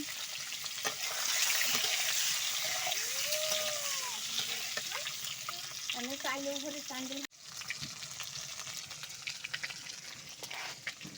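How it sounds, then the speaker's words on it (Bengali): Eggs fry in a pan for a home-cooked meal, a steady close sizzle and crackle with a few scraping stirs and a brief break partway through. "তা আজকে ডিম ভাজি করছি।"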